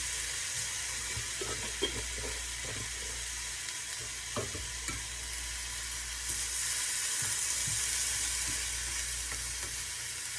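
Garlic frying in a pan as a grandmother cooks a prison-style noodle dish, a steady hiss of sizzling oil with occasional soft clicks and stirring taps, close and without talk.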